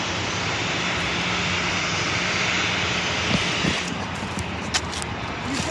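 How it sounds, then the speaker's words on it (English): A passenger airplane roars close by at San Diego International Airport during planespotting, its engine a loud, steady broadband rush that fills the scene without break and swells slightly near the end. "You can literally almost touch the airplane, huh?"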